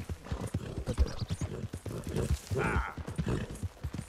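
A horse gallops in Red Dead Redemption 2, giving a fast, continuous drumming of hoofbeats, close and fairly loud, with a brief snort or whinny partway through.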